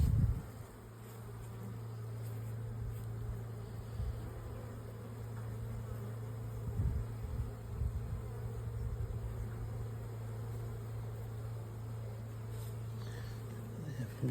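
Honeybees buzz actively around a hive, a dense steady hum of many wings close by, with a few louder passes as single insects fly near.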